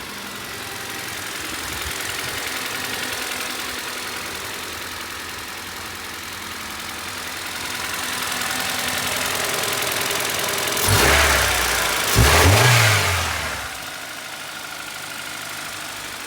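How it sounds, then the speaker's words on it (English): A Honda Ballade 150i with a D-series VTEC bottle intake idles steadily, then a starter crank and two quick revs flare up near the end before settling back to idle. "I also want to start the car up for you guys so that you can see how well everything works together."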